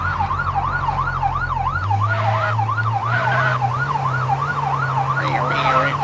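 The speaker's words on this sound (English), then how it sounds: "let's do some siren." A video game police siren wails, cycling steadily up and down in pitch, loud and close, with a low engine drone underneath.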